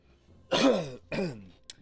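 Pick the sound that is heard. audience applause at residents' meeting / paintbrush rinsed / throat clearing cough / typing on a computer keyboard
throat clearing cough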